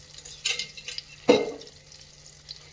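Butter and oil go into a hot pan for paneer masala, giving two brief clinks and soft sizzling bursts, with a faint hiss between them and no talk.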